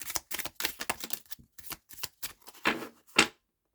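Tarot cards are shuffled close up in a fast run of crisp riffling bursts and soft slaps, ending with a few sharper snaps before silence.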